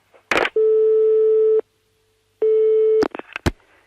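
Telephone line tones after hanging up: two long steady beeps, separated by a pause, then brief clicks from the handset.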